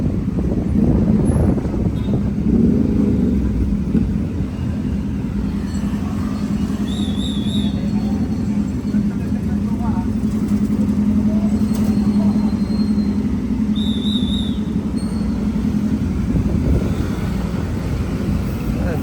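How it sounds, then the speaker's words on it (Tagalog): Steady low rumble of Manila street traffic with idling and passing vehicles, continuous and close, with faint high squeals now and then. "Traffic"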